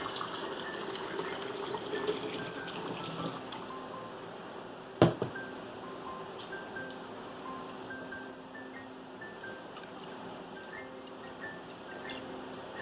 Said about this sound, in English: Then cover with filtered water.